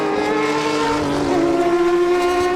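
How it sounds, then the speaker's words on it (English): A historic Ford Capri touring race car wails past during a historic touring car race. Its engine makes a loud, steady high-pitched drone that shifts slightly in pitch as it goes by. "the wailing sound of the Capri goes behind us, up towards Surtees now"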